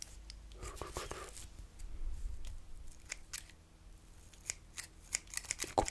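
Scissors snip repeatedly close to the microphone while cutting hair during a barber roleplay, crisp clicks in irregular bursts over soft whispered talk and rustling.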